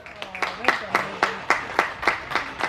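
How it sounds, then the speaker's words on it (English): Audience at a Blackpool Zoo bird display clapping in a steady, evenly spaced rhythm, each sharp clap standing out clearly, with a faint voice underneath. "we'll give her a big round of applause"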